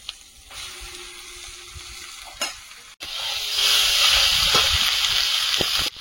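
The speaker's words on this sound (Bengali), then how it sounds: "এই মশলা কষিয়ে এতে মাংস কষিয়ে নেবো" Meat sautéing with spices in hot oil for a Bengali dish, a steady close hiss of frying that swells louder midway, with occasional scrapes of a stirring spoon against the pan.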